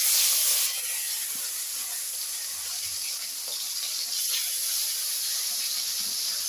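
Fish rubbed with salt and turmeric frying in hot oil, a steady close sizzle and hiss with a louder burst as it goes in at the start, continuing evenly throughout.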